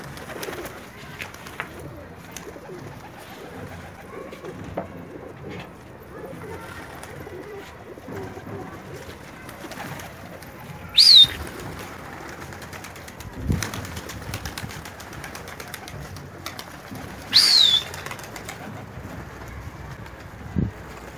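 Quiet ambience with soft pigeon cooing and a couple of brief louder bird flutters or calls, spaced apart, with gulls nearby.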